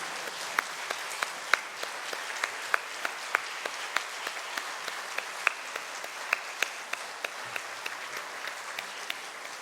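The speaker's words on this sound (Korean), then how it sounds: "자리에 앉으실 때까지 계속 박수해 주시면 감사하겠습니다." A church congregation applauds steadily at a Wednesday evening service, a dense wash of many hands clapping with scattered sharper individual claps, continuous and fairly loud throughout.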